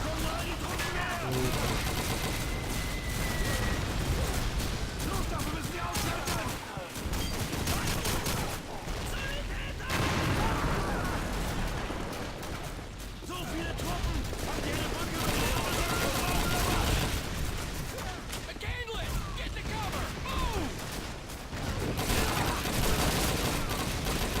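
Rapid gunfire in the World War II shooter Call of Duty 2 during the Pointe du Hoc battle, dense bursts of shots and machine-gun fire running throughout under someone talking.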